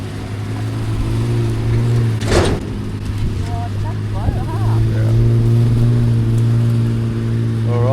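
Two Nissan off-road competition trucks, one towing the other on a gully run, with a steady low engine drone throughout and a short burst of louder noise midway, under people talking.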